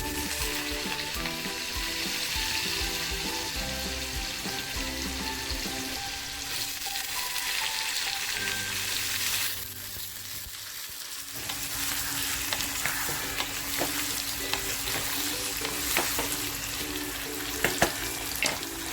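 Diced potatoes with cumin and chili flakes fry in a pan for Maharashtrian aloo katli: a steady, close sizzle with stirring scrapes, briefly quieter near the middle before the crackle picks back up. No one speaks.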